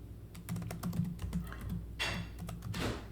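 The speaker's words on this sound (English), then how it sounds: "you can type in the command sudo" Quick, quiet keystrokes clatter on a computer keyboard as a terminal command is typed, a rapid uneven run of taps with a couple of louder key presses near the end.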